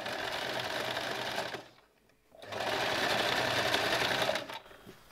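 A sewing machine stitches a straight seam on a dress in two steady bursts of whirring, broken by a short pause near the middle, loud and close with no talk.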